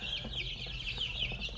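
Free-range backyard chickens cluck in a steady stream of short, repeated calls, close by, with a constant low background hum and no voices.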